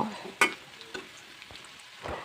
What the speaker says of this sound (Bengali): তেলের সাথে ভালো করে ভেজে নিব